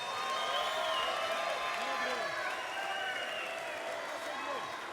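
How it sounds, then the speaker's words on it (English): An arena crowd at a professional boxing event claps and cheers for the fighters, a steady wash of applause and crowd noise under a prominent amplified announcer's voice. "Ladies and gentlemen, give these fighters a round of applause tonight."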